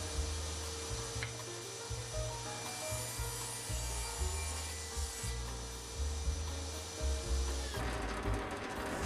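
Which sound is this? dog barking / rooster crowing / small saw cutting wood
small saw cutting wood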